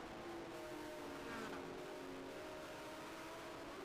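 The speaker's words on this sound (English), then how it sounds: "I love the sound of Joyner's car" A Trans Am race car engine at Lime Rock drones steadily at high revs, a sustained buzzing roar that holds level throughout with a faint whine on top.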